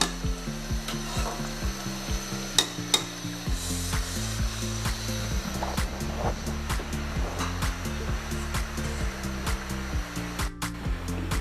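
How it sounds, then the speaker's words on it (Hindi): A steady sizzle of cumin seeds frying in hot ghee in a frying pan, with a constant crackling hiss and occasional clicks and scrapes. "थोड़ा सा मैंने घी डाल दिया फ्राई पैन में। इसके अंदर मैं थोड़ा सा ज़ीरा डाल देती हूँ।"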